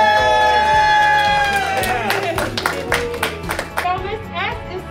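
Schoolchildren at Rose Acres cheering and clapping for their support staff member of the year, a burst of excited shouts over quick scattered hand claps that thin out, with an adult voice speaking near the start.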